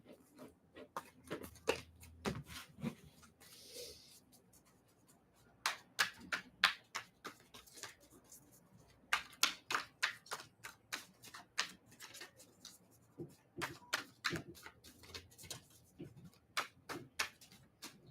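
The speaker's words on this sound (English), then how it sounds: "I think we got a good shuffle there." Tarot cards are shuffled by hand: crisp clicking snaps and flutters in irregular bursts, broken by short pauses, close and fairly quiet.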